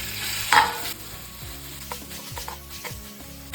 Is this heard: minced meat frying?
yes